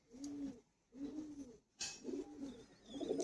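Several soft, throaty coos from Madrasi pigeons kept for sale repeat in a steady rhythm at close range, about four calls in quick succession with brief pauses between them.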